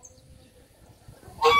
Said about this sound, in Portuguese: Aí tá os gansos, vocês verem.